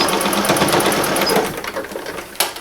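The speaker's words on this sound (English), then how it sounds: "Where those seams cross, I want to put a stitching line" Sewing machine running a line of stitching across crossed seams on blue jeans denim for a purse, a steady continuous rapid stitching buzz, close and fairly loud, alone without speech.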